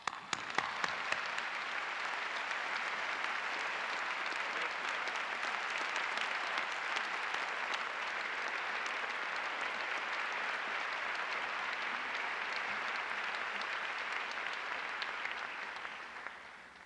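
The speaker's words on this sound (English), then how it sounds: "This round of applause is for you." An audience at a 1994 Texas Tech law school graduation ceremony breaks into long, even applause that starts with a few sharp claps, holds as a dense wash of clapping, and fades at the end.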